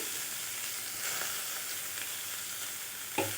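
Crushed garlic and ground onion paste fry in ghee with a steady, close sizzle that holds across the whole stretch, broken by soft stirring scrapes and a brief louder spit near the end.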